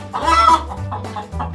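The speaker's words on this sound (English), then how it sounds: "Here is chicken." A chicken clucks loudly and close, a quick series of throaty calls over a short burst.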